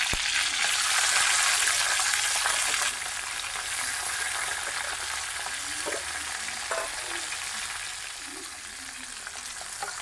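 Ginger, garlic and small onions frying in hot oil, a loud dense crackling sizzle that eases slightly after a few seconds, with occasional soft stirring knocks, close and steady.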